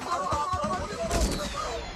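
Gunfire in a mafia action film scene where a rifle shoots a firecracker, heard as a dense burst of shots with a heavy low thump near the middle, mixed with other film sound.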